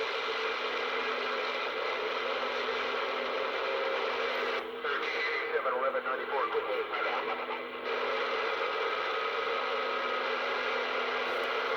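Uniden PRO 500d CB radio, powered up after years unused and tuned to channel 19, gives a steady hiss of receiver static, with a brief burst of garbled chatter in the middle.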